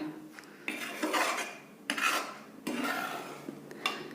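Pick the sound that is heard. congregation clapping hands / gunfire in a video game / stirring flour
stirring flour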